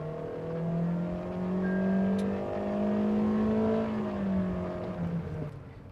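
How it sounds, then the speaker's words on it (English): Toyota Innova HyCross engine with CVT transmission under hard acceleration, a loud steady droning strain that holds one pitch for several seconds before easing off, close and without talk. "So it sounds pretty strained and hectic when you give it the beans."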